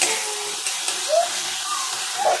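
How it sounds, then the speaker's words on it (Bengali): Onions and spices fry in a pan as a thin, continuous hiss that holds steady and close throughout, with faint background sounds. "আর এখানে পেঁয়াজ আর মশলা একটু কষে নিচ্ছি"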